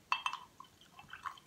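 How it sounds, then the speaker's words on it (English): Dark craft beer poured into a glass: a few soft liquid splashes and faint glassy clinks, quiet and sparse, ending in a sharper burst of pouring. "Let me pour a little bit more so you can see."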